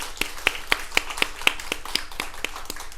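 Scattered hand claps ring out at a steady, moderate pace in a church worship service, fairly close and crisp, with no voices over them.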